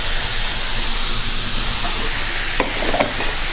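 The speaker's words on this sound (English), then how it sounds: "You want to get this a stir and get it nice and a little toasty." Potatoes sauté in a hot pan, with a loud continuous sizzle and steamy hiss and a couple of brief scraping stir strokes near the end.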